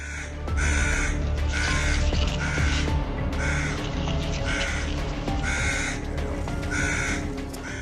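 A pair of birds calls while defending against a monitor lizard, giving loud harsh crow-like caws in regular repeated bursts, close and dominant over low background noise.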